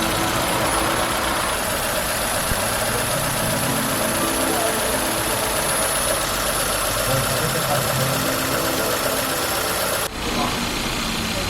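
A 1993 Hyundai Elantra engine idles steadily after an oil change, a continuous low rumble with a faint mechanical ticking, close by and unchanging throughout.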